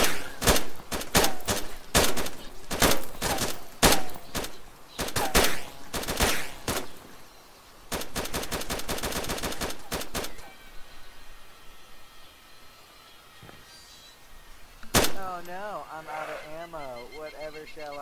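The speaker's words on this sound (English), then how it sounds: "Alright, I'm gonna fire some more." Bursts of gunfire in the survival game DayZ, loud rapid volleys and single shots in clusters through the first half, then background noise and a voice talking over the later part.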